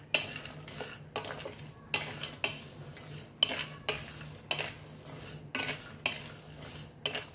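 Pumpkin, watermelon and sesame seeds dry roasting in a pan, stirred with a spoon: repeated scraping strokes and light rattling every second or so, close up with a faint sizzle beneath.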